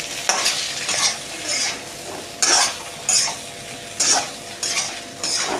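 Bitter gourd coated in masala is stirred in a kadhai, a spatula scraping the pan in repeated strokes roughly every half second, with a faint sizzle underneath and no talk.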